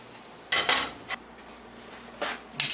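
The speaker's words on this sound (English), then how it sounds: "I'm going to take this egg out, okay?" An egg lifted out of a carbon steel pan, heard as a few sharp scraping clatters of utensil against metal in quick bursts, separated by quiet gaps with no talking.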